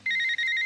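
A mobile phone ringing tone plays during an outgoing call, a short steady electronic two-pitch tone with a brief gap, clear and alone.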